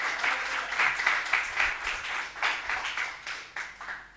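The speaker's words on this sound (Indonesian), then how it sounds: "Tepuk tangan untuk dia, amin." A church congregation breaks into sustained applause during a sermon, a dense wash of many hands clapping at a steady level, swelling and easing in waves with no voices over it.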